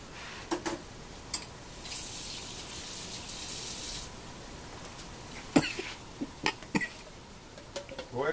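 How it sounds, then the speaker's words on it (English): Several short, sharp coughs come in bursts, mostly in the second half, over a steady background hiss like running water. "Go ahead and cough if you need to cough"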